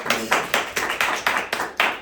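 A round of applause from a small audience at a talk, heard as about eight distinct, evenly spaced claps, close and crisp with no voices over them.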